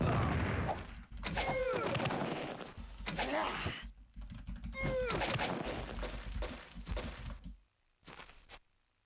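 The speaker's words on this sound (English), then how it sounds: "Oh, those guys shoot something at you." Enemies firing projectiles at the player in the old computer role-playing game Might and Magic 6, heard as repeated sharp cracks and crashing impacts in separate bursts, with chirping game effects between volleys and brief silent gaps.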